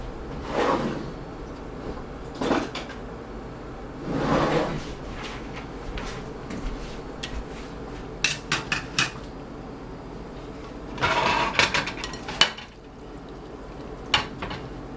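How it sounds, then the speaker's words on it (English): Drawer in a home kitchen rattling and knocking as it is pulled open and pushed shut, with scattered clinks of cutlery while a spoon is fetched, several separate bursts spread over the span, no talk. "I'm actually going to get a spoon."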